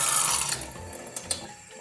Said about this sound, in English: Just gonna give it a little bit more water just to be a little bit less thick.